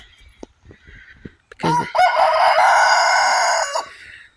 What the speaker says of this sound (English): Look at that other roosters over there